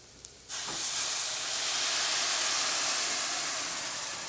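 White wine splashed into a hot pan of softened vegetables for mussels, an abrupt loud sizzle that jumps up and holds as a steady, close steaming hiss.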